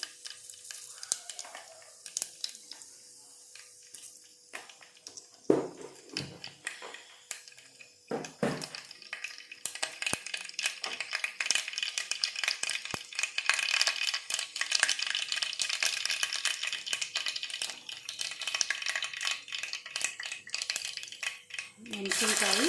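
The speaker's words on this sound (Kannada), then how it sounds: "ಸೊ ನೆಕ್ಸ್ಟ್ ನಾನು ಜೀರಿಗೆ, ಸಾಸಿವೆ ಎರಡು ಮಿಕ್ಸ್ ಮಾಡಿಟ್ಟಿದ್ದು ಹಾಕೀನಿ" Cumin and mustard seeds drop into a hot pan and burst into a rising, crackling sizzle. After a few clattering utensil knocks it swells into dense, continuous frying noise that carries on to the end.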